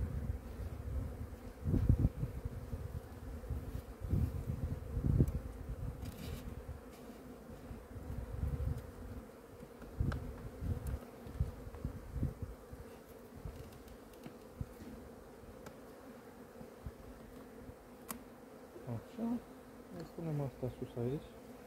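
Honey bees buzz steadily from an opened five-frame beehive, a close, continuous hum with low thumps and handling noises throughout and no clear speech.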